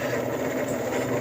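An LG front-load washing machine's drain motor runs with the basket spinning, a steady, fairly loud mechanical hum and whir that holds without a break.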